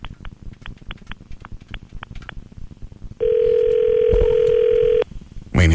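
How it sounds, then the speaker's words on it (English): A steady telephone dial tone after a misdial, preceded by a short run of rhythmic dialing beeps, loud and close for about two seconds before cutting off. "I didn't dial enough numbers."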